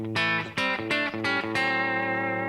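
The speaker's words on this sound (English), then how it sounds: "all the way up to like a modern country lead solo tone" Electric guitar with a Helix modern country lead tone playing a short lead phrase of several bright, overdriven notes, ending on a sustained ringing note, loud and up front.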